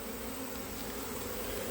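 Honey bees swarming and buzzing near beekeeping suits as honey is harvested, a close, unbroken droning hum without speech.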